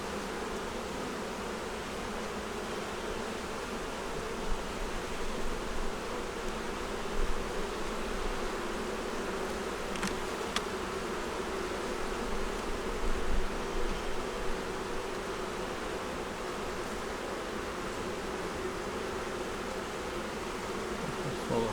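Honey bees buzz around their hive, agitated on a day of changed weather, making a dense, continuous drone close by that holds steady throughout with no talking.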